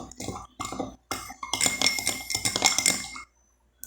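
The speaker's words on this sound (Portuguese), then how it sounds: "Vou agitar." A metal spoon stirs table salt into water in a glass, making repeated close clinks and scrapes against the glass in uneven bursts before falling quiet.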